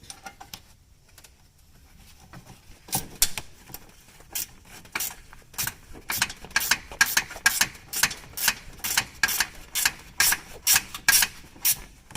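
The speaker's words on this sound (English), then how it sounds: "So now I'm gonna get my little ratchet." A small ratchet tightens bolts on the alternator of a 2009 Honda Accord V6, producing close, crisp bursts of clicking that come in a regular, repeated rhythm after a brief quiet start, with no talk.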